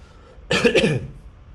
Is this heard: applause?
no